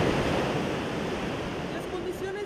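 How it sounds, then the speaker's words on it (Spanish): Ocean surf pounds a beach as a cold front moves in, a loud, continuous wash of breaking waves with wind buffeting the microphone throughout. "Estas olas se ven muy peligrosas."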